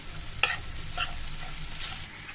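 Chicken pieces coated in ginger-garlic paste and a little salt fry in a pan for vegetable chicken momo, with a steady soft sizzle, a sharp clink of the stirring utensil, then scraping stirs, close and alone.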